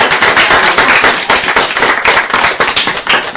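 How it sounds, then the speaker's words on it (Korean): Vigorous, dense applause from an audience at a Korean human-library talk given by a weather station chief. The claps sound loud and crisp, with a sharp, popping texture that stays strong throughout. "힘찬 박수를 부탁드립니다"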